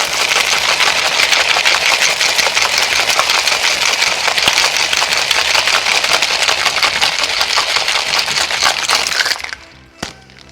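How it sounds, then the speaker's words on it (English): Ice rattles hard inside a cocktail shaker in a loud, fast, continuous shake for about nine seconds, then stops abruptly, leaving a brief clink and quiet. "We're going to add ice to your shaker. Give this a nice shake so it's nice and cold."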